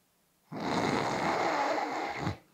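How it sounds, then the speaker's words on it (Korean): One long, rasping snore, a single drawn-out breath of about two seconds, close and loud, with quiet before and after. "이런 호흡 소리, 이런 코골이 소리가 자주 나온다면"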